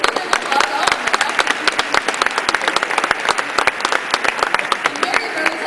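A crowd applauding during a speech, with dense, steady clapping that fills the whole stretch, loud and sustained at an even level.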